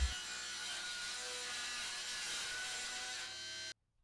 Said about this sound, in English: I can then get that freshly cut edge run along the fence of the table saw and get another edge cut